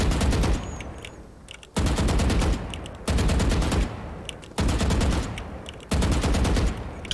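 A Vandal rifle in the video game Valorant fires in sustained full-auto sprays, five loud bursts of rapid rhythmic gunshots separated by brief pauses, close and dominant with no talking.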